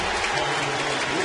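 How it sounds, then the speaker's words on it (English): A baseball crowd at a 2010 Indians game applauds A-Rod as he leaves for a pinch runner, giving a brief, dense, steady wash of clapping throughout. "A-Rod gets a nice hand from the crowd"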